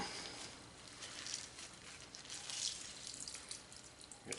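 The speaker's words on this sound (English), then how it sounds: "going to want to wring these out." Wet fried-burger onions being wrung out by hand in a cloth over a sink, giving a faint, steady wet patter and dripping with soft squeezing swells, heard alone without talk.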